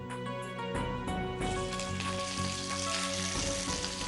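Close, dense crackle and sizzle of cumin, mustard seeds, dried red chilies and curry leaves hitting hot oil for tempering, continuous and fairly loud throughout, with no talking.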